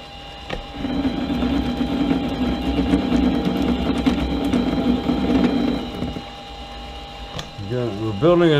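A lathe takes a spring pass while cutting a thread on a crossfeed part, giving a steady mechanical whir with a low hum for several seconds before it winds down. Quiet voices come in at the end.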